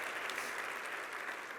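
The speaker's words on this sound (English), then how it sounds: "You have to clap for that." Steady, dense applause from a keynote audience at a real estate talk, an even wash of clapping that fills the whole moment without pause or voices.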